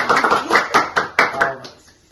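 A small group claps briefly for a guest arriving on a Brazilian podcast, with quick uneven clap bursts close to the mic that fade out within two seconds.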